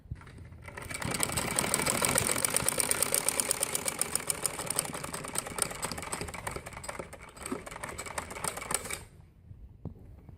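Domestic sewing machine stitching seams on a Kalidar (kali) frock, a fast even mechanical whir running steadily for about eight seconds up close, then stopping, with no talk.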